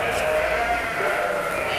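Sheep bleat steadily at a farm that keeps Dorper, Awassi and Suffolk sheep, a close sustained cry carrying under and over a voice talking throughout.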